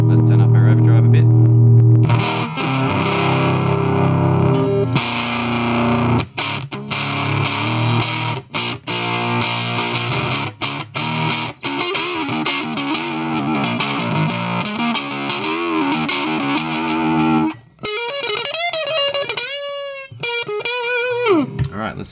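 Electric guitar played through an Electro-Harmonix Hot Tubes overdrive pedal, giving loud, continuous distorted tones with sustained chords and rapid picked notes, a brief gap, then bright bending notes, with no talking.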